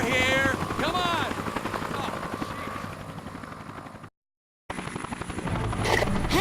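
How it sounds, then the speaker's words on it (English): A news helicopter in the video game Dead to Rights thrums nearby with a rotor chop, mixed with game effects and a brief drop to silence partway through, then returning loud. "News chopper, right across from you."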